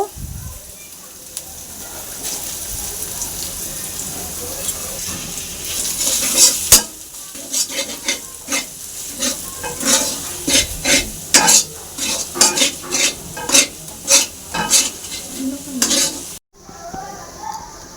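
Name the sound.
stirring and frying spices with pea paste in pan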